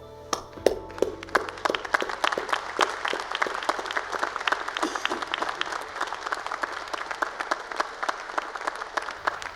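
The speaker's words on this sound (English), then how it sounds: "applause." Graduation ceremony audience breaks into applause, starting with a few sharp claps that quickly swell into a dense, lively round from a large crowd, continuing steadily.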